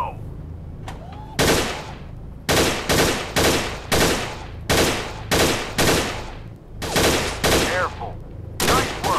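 Gunfire from weapons in the Gun Club VR S.W.A.T. game: loud, close bursts of rapid shots arriving in roughly a dozen separate volleys split by short pauses, with no talking between them.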